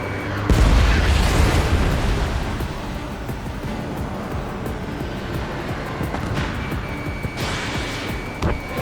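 An enemy UAV blowing up after a missile hit in the jet combat game Ace Combat 7: a sharp, heavy boom near the start that rolls into a sustained roar of jet engine and wind.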